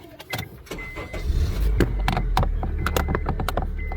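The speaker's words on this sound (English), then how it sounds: "start the car" 2010 Honda Civic engine cranking and catching, preceded by clicks and clunks inside the cabin, then settling into a loud, close, steady idle rumble, no talking.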